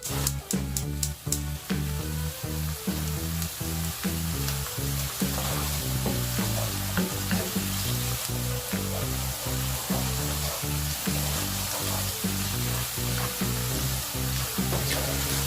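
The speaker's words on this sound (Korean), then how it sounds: "타지 않게 어느 정도 그냥 투명하게 좀 볶아주면 됩니다." Garlic and green onion fry gently in oil over low heat for a spicy seasoning base, a close, continuous sizzle with rhythmic stirring scrapes and taps repeating throughout, no voices.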